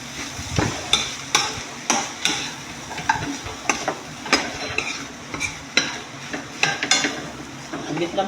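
Crispy sisig stirred in a hot pan, with a steady sizzle beneath repeated sharp scrapes and clanks of the utensil against the metal, falling in a fairly regular rhythm close by.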